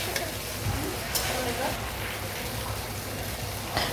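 Pasta fries in a pan with dried chili powder and salt, a steady close sizzle and crackle with occasional stirring scrapes, while someone talks over it.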